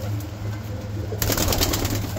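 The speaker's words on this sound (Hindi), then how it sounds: "आसिफ भाई हमारे लिए बच्चे लाए हैं 2025 में उड़ाने के लिए" Young pigeons coo softly in a steady, low murmur against a hissy background that grows slightly louder partway through.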